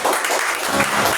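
A church congregation applauding during a worship service, a dense, loud burst of clapping from many hands filling the whole moment.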